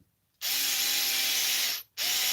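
A power tool, likely an impact driver, torquing down a bolt on a Redcat Racing Kaiju RC truck, whirring loudly and steadily for about a second and a half, cutting off, then starting again briefly.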